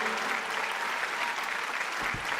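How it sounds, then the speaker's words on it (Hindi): Dense, steady applause from a hall audience at a women's poetry gathering, many hands clapping together at an even level for the full stretch, with no voices above it. "आपकी तालियां उसके लिए आह्वान करें। कमजोर तालियां मत बजाइए,"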